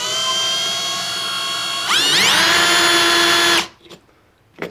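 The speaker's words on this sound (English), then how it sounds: "I'm going to get a drill and drill through these" A power drill whines loudly and steadily, rising in pitch as it bites through material, then cuts off abruptly, leaving a few faint clicks.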